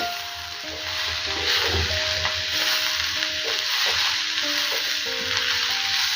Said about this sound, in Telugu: ఒకసారి ఆకుకూర కలిపిద్దాము ఇలా కలుపుకుంటూ ఉండాలి